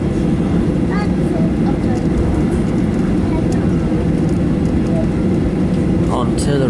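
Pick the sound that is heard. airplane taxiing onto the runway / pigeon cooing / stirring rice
airplane taxiing onto the runway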